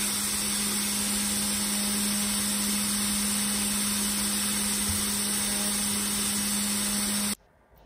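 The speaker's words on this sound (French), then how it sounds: "Vous entendez un tout petit bruit à la fin de chaque perçage." Small CNC machine drilling holes in a printed circuit board, a steady high whine with a constant hum that runs unbroken, then cuts off abruptly near the end.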